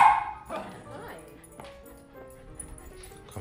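A pet dog barks and whimpers indoors during a family home cleaning session, one sharp bark at the start followed by fainter yips, with voices heard throughout.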